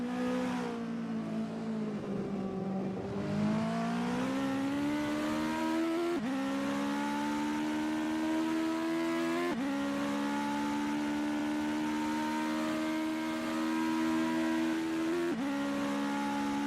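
A US Legend car in a racing game roars at sustained high revs, its engine note climbing through gear changes with brief dips at each shift, loud and steady from start to finish with no voices.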